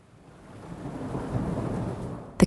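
A thunderstorm with rain outside a lantern-lit treehouse builds into a steady low rumble of thunder over the rain, swelling toward the end before a sharp crack closes it.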